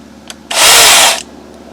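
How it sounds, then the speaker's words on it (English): A small 36-volt battery-powered mini chainsaw with a 6-inch bar whirs up sharply, runs at a steady high-pitched buzz for under a second, then cuts off abruptly. "It's 36 volt, 6 inch long bar on it, so it's a little mini chainsaw."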